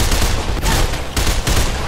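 Rifle gunfire in the first-person game Mirror's Edge, from a gun resembling a SCAR: rapid close bursts of loud automatic shots crackle in quick succession, heard alone with no talking.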